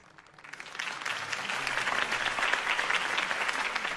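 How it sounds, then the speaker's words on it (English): Crowd applause breaks out after a campaign speech in the video game Batman: The Telltale Series, swelling from a quiet start into steady, sustained clapping from a large audience with no talking over it. "If only Mr. Wayne, my campaign's largest backer, could have heard that applause"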